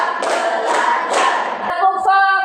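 Students in a classroom clap together in a chanted counting game, three quick, evenly timed bursts of clapping up close, after which a voice begins speaking.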